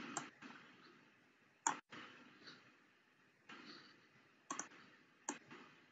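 Computer mouse clicks sound close and sharp, a few scattered single clicks spaced irregularly over quiet room tone with faint background noise, no talking.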